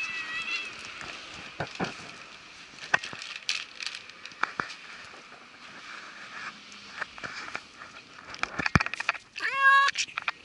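A cat meows near the end among scattered knocks, rustles and footsteps outdoors near a bus terminus where stray animals are being fed, with a loud, rising, close call at the close.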